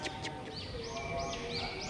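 Faint, high chirps and little rising whistles from a small bird, repeated a few times against a soft background hiss.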